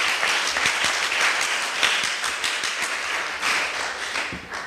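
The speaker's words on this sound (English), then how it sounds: "Could you please give them a round of applause?" A round of audience applause for the staff of a West Indies Cricket Board kiddy cricket camp, broad and continuous clapping that stays loud and even throughout with a few sharper individual claps.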